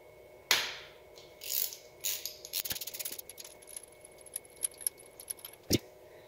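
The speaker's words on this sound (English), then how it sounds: "So, let's just remove our spark spark plug here." A ratchet and socket work a spark plug loose from a Porsche 944 engine, giving a run of quick metallic clicks and light clanks in short, irregular bursts near the mic.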